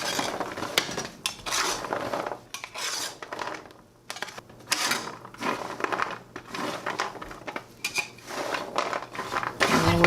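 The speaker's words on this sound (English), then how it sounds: "Okay, time to stir." Keto caramel pecans are stirred and spread on a cookie sheet, with repeated scraping and rattling of utensil against metal, uneven bursts broken by a brief pause.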